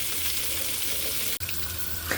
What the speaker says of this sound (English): So right now I am washing my yellow potatoes.